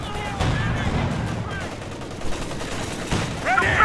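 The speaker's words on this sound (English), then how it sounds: "Suppressive fire!" Suppressive gunfire in Company of Heroes 2, dense continuous bursts of battlefield shooting with sharper volleys near the end, mixed with game voices calling out over the combat.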